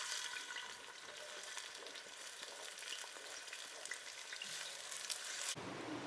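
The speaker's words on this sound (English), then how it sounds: "heat some of that palm oil in a pan and then fry the onions and the tomatoes" Steady, close sizzling of onions frying in hot palm oil in a pan, a continuous crackle with faint stirring, no talking.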